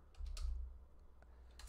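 Typing on a computer keyboard, a quiet run of close key clicks in small irregular bursts with short pauses between them and no talking.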